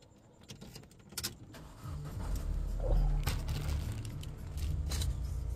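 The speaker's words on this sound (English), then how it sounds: "Start the car up." A car is started close by after a few clicks and key jangles, and its engine catches and settles into a steady low idle.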